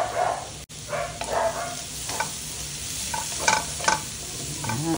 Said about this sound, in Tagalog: Pagka lumabas na po yung aroma ng bawang, ilagay ko na po yung sibuyas.